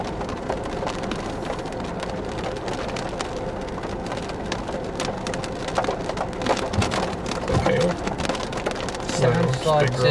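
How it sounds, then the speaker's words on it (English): Heavy rain of big wet drops pattering steadily on surfaces during a storm, a dense continuous patter with occasional louder splashes, while people talk faintly underneath. "Sounds like just big wet drops."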